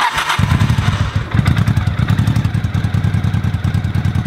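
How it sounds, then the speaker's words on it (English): A Honda Shadow motorcycle, fuel pump relay bypassed, cranks and catches, then runs with a loud, close, lumpy idle that pulses steadily throughout, with no talk. "I got the bike running"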